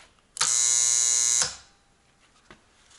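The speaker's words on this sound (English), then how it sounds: "So they actually are welded together." A DIY spot welder fires a single one-second pulse while welding tabs onto lithium battery cells, giving a loud steady electric buzz that starts and stops abruptly, followed by quiet and a faint click.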